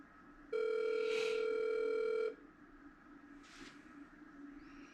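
A single telephone ringback tone on a call going unanswered toward voicemail, one steady buzzing ring of about two seconds, clear and close, followed by quiet line hiss.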